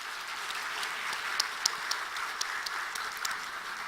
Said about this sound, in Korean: 우리 임직자들에게 말이죠, 격려의 박수를 한번 보내십시다.